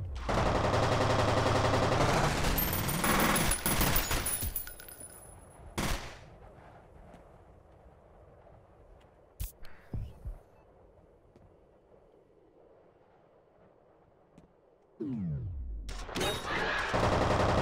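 Gunfire in the game F.E.A.R.: loud dense bursts of automatic fire open the scene, then a quieter stretch with a low hum and a few isolated sharp shots, before heavy firing erupts again near the end.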